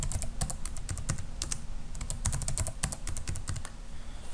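Rapid, close keystrokes clatter on a computer keyboard in irregular bursts of clicks with short pauses while credentials are entered.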